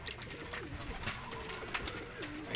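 Soft, low pigeon coos repeat a few times over a faint, noisy background, gentle and fairly close.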